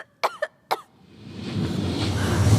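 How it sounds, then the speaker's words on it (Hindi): A woman coughs three times in quick, harsh bursts on a film set, then fades into a swelling, rumbling background noise. "खांसी को थोड़ा कंट्रोल करो ना प्लीज"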